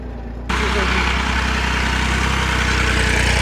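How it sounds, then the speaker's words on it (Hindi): A tractor engine runs in a farm field, its loud, steady drone cutting in abruptly and then holding at constant level, a heavy, continuous rumble. "जैसे जैसे ट्रैक्टर आगे चलता जा रहा है"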